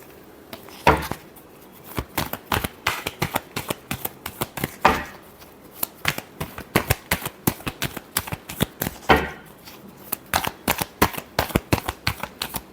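Tarot cards are shuffled by hand in repeated bursts of quick, crisp flicking and tapping, close up, with brief pauses between rounds and no talking.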